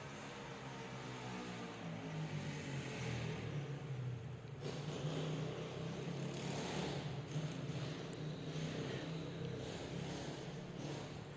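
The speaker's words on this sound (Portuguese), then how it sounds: "Ô, moto barulhenta." A loud motorcycle passes nearby, a steady low engine rumble and broadband roar that swells in the middle and holds strong for about eleven seconds, with no talk over it.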